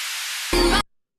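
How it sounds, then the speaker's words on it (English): White noise effect in an electronic dance remix, a broad hiss that swells and then briefly gets louder with a low thump underneath before cutting off abruptly, alone. "White noise."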